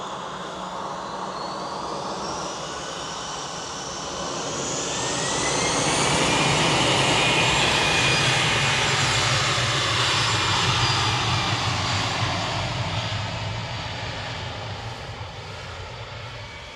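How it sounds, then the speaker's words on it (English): A KLM Boeing 737-800 arriving at Manchester from Amsterdam passes with a steady jet engine roar and whine that swells to a peak midway, then slowly eases, with no talk over it. "Next in is KLM coming in from Amsterdam, PHBXA 737-800, flight 1029."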